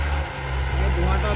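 A Mahindra 475 DI tractor engine revs with a loud, close, steady low rumble, while voices talk over it.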